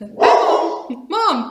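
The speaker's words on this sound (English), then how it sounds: "that's my dog barking" A dog barks indoors, two loud, close barks separated by a short pause, and a person's voice briefly overlaps them.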